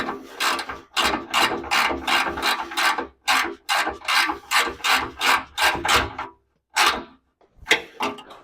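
A ratchet wrench tightens a bolt during a muffler replacement on a 1999 Dodge Durango, giving a series of rapid, close rasping clicks in regular strokes with short pauses between them.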